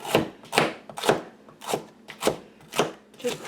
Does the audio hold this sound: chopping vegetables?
yes